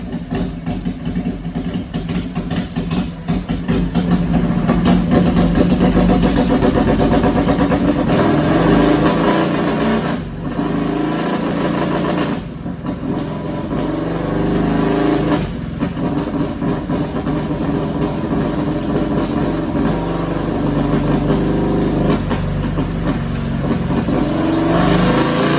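A Suzuki Hayabusa motorcycle engine on a dyno, running very rich and fouling plugs, revs hard in a long, loud, steady pull with brief dips, close and alone.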